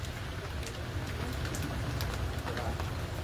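Steady rain pours onto a downtown street near the CN Tower during a storm, a continuous close hiss with a low rumble beneath and scattered sharper drop splashes throughout.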